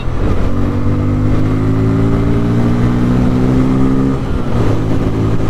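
Bajaj Pulsar N250 motorcycle with slipper clutch drops two gears and accelerates hard to overtake, its engine note climbing steadily in a loud, close, continuous rising drone, briefly dipping near the end before pulling again.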